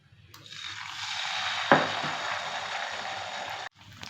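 A ladleful of millet batter for Kerala-style small kalathappam hits hot oil with a sudden, fairly close hiss that holds steady for a few seconds, then cuts off abruptly.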